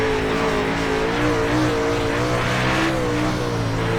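A race car driven hard on a slick track, its throttle pedalled, gives a loud, continuous engine roar that rises and dips with each stab of the pedal, close and alone with no talk.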